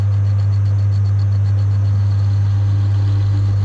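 A metal lathe set to 430 rpm starts facing material. Its steady, loud low-pitched motor hum runs without a break, with a faint rhythmic rattle over it and no talking.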